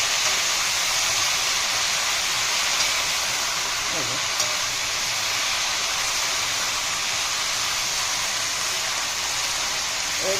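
Vegetables for shukto sizzle in a hot pan, giving a steady, dense hiss of frying that carries evenly throughout without pause.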